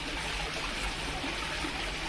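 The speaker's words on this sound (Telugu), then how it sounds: "swimming pool with water fall మంచిగా ఉన్నది" A waterfall pours steadily into a swimming pool, a continuous close rushing and splashing of water with no break over the whole stretch.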